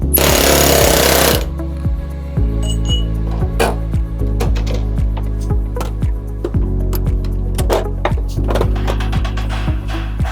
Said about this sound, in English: with an air hammer, just going to knock the return over on this end at the bottom as well